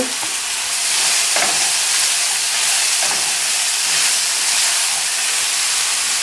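Onions, peppers and scallion sizzle loudly in a pan for Jamaican pepper steak, a dense steady frying hiss close by with a few faint clinks of stirring and no talking.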